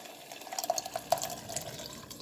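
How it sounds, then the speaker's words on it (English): Canned beans with their liquid poured into a cooking pot, giving a short splashing, trickling pour with a few bright drips, close and moderately quiet with no talking. "Now I am going to add the can of beans. I do not throw out the water."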